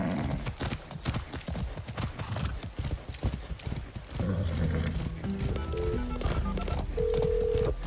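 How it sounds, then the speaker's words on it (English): Horse hooves clip-clop in rapid galloping rhythm in the video game Far Cry 6, loud and close, mixed with game music and sound effects, with someone talking over parts of it. "Instant horse. Hello, horse."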